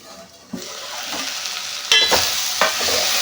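Vegetables for sambar are stirred in a pot with a spoon, giving close scraping, clinking strokes and a rising sizzle once they hit the hot pan.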